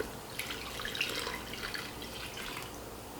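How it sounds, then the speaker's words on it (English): Water trickles and splashes faintly as it is poured into a bowl holding sourdough leaven, a soft, continuous liquid patter close by. "we have 475 grams of water that we're gonna put with the leaven."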